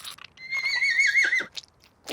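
A cartoon horse lets out a high, shrill whinny that wavers and trails off, followed by a few soft snorts and rustles.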